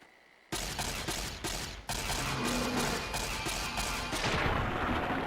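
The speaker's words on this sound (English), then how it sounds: "Using the laser rifle, get some cheap energy damage done." Laser rifle gunfire crackles in Fallout New Vegas, a dense run of rapid shots and bursts after a brief quiet start, loud and continuous with game combat noise around it.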